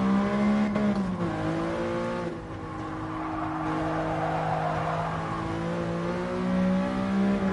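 A carbureted V12 engine in a classic dream car at the Nurburgring in GT Sport revs and pulls through the gears, a smooth rising and falling engine tone with a shift dip, heard alone.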